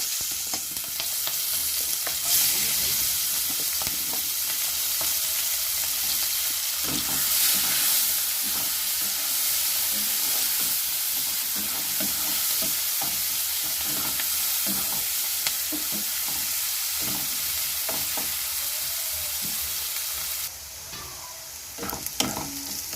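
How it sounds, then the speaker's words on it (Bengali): Sliced onions fry in oil left over from frying potatoes, with cinnamon, cardamom and cloves, for a mutton curry: a loud, steady sizzle with frequent scraping and stirring clicks, no talk. "পেঁয়াজগুলো ভেজে নিচ্ছি তেলে।"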